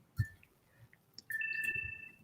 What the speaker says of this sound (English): stop that phone